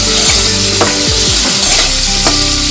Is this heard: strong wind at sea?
no